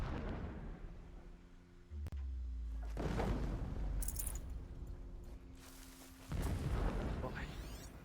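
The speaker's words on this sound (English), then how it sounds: "Explosions in the distance." Distant explosions rumble in the video game Horizon Zero Dawn Remastered, several deep booms and bursts rolling in over a few seconds against a low background hum.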